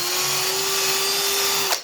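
A power drill whines at a steady high pitch for nearly two seconds while drilling holes for a control wheel, then abruptly stops with a brief clunk.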